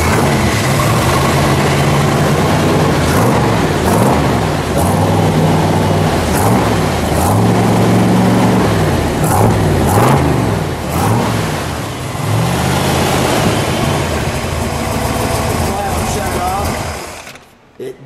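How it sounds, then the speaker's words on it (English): A 1966 Chevrolet Corvette convertible's 427 V8 rated at 425 horsepower idling loudly up close, with several throaty revs rising and falling, and people talking over it before it cuts off. "That's a 427 with 425 horse sound like."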